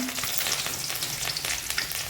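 Curry leaves crackle and sizzle in hot tempering oil being prepared for bhadang and poha, a steady dense frying hiss with sharp pops throughout, close and fairly loud.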